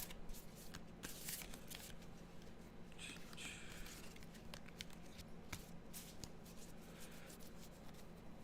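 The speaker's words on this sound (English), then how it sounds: "We'll shuffle the cards and" Tarot cards shuffled by hand in soft, continuous riffling and rubbing bursts, quiet and close, with no talking.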